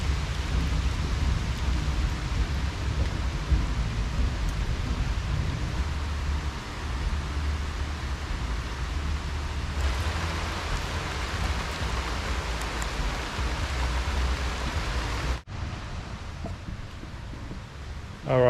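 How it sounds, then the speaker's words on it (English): Steady rain falls near the Mekong at Luang Prabang, a dense continuous patter with a low rumble of thunder beneath, keeping up throughout before a brief dip near the end. "it looks like the rain is now stopped a little bit"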